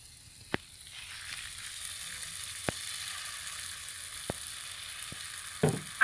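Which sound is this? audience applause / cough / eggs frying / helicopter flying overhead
eggs frying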